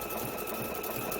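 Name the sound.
sewing machine sewing binding onto fleece quilt backing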